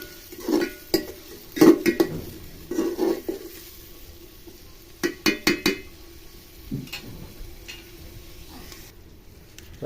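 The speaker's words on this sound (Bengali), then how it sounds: "পেঁয়াজটা দেওয়ার পরে এবার লেড়ে নেবো, একটু ভেজে নেবো পেঁয়াজটাকে হালকা।" Chopped onions are stirred with a utensil in a pan and lightly fried for a vegetarian khichuri, giving a run of close scraping and clattering knocks against the pan over a faint sizzle, with no talking.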